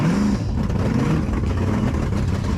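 A car engine runs close by with a low, rumbling idle. Its pitch wavers slightly, as if lightly revved.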